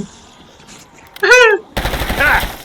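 Automatic gunfire bursts in the video game Call of Duty Black Ops 6, loud and close. A voice cries out partway through the burst.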